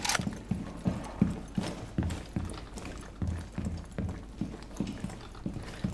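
Enemy footsteps trot across a floor in the video game Rainbow Six Siege, a rapid, steady run of close thumping steps with no talk over them.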